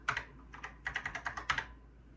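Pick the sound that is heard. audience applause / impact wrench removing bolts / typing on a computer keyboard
typing on a computer keyboard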